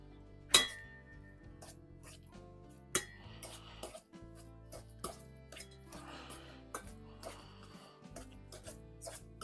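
A fork mixes a bourek filling of meat and potatoes, giving sharp clinks and scrapes against the bowl, one loud knock and then lighter irregular taps and stirring rustles, fairly close.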